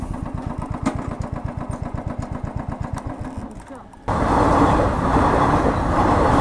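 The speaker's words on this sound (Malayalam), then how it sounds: "അങ്ങനെ ട്രെയിൻ പോയി" A train passes a closed level-crossing gate near Madayipara. A rhythmic throbbing engine beat comes first, then a sudden loud, sustained rushing roar takes over.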